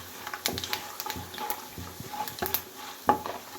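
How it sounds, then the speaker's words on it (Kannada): Chana dal and urad dal roasting in hot oil for a masala dosa filling, with soft stirring scrapes and light sizzle and a few sharper clinks of a spoon against the pan, fairly quiet and close with no talking. "ಚೆನ್ನಾಗಿ ಕಡಲೆಬೇಳೆ ಉದ್ದಿನಬೇಳೆ ಎಣ್ಣೆಲಿ ರೋಸ್ಟ್ ಹಾಕಿ"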